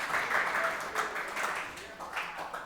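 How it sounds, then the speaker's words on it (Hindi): Students clap in a classroom during an accounting lesson, giving a short, uneven burst of hand claps mixed with a voice talking over them. "अरे बजाओ तालियां"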